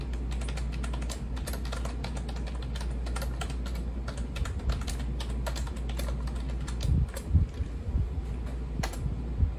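A full disk encryption passphrase typed on a computer keyboard: steady, rapid clicking keystrokes close up over a constant low fan hum, with no voices.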